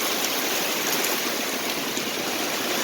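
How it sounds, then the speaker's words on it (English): Rainwater streams steadily off a 40-foot building roof onto the ground, a continuous close, loud rushing splash with no breaks. "The water comes in right off the roof,"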